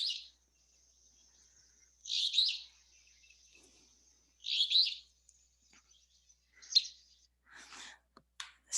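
An alder flycatcher sings outdoors, giving a few sharp, buzzy two-part phrases separated by pauses, clear and fairly close against a quiet background, with a few softer chirps at the end.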